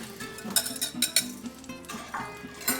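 Cauliflower steaks set onto a plate with a few light knocks and clinks of utensils against dishware, close and quiet, no talking.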